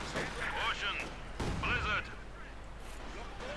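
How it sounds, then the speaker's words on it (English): A heavy mortar shell hits in a Company of Heroes 2 battle, heard as a couple of booming impacts with rumbling tails, partly under a commentator's voice. "Nice hit there from the heavy mortar."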